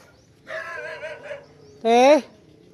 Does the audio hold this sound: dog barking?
yes